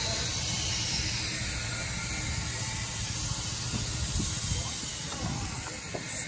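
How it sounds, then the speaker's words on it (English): A loud, continuous hiss of steam from a wood-fired steam train fills the clip, broad and steady, with faint low rumbling and clanking underneath. "Steam train."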